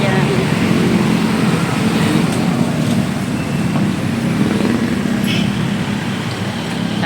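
Dense road traffic streams past near a market, a loud, continuous roar of cars and larger vehicles with engine rumble close by and muffled voices underneath.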